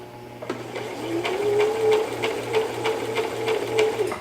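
A Brother LX3817 sewing machine runs steadily while stitching fabric, starting up after a brief pause and holding a continuous whirring hum with regular rhythmic needle clicks, close and fairly loud.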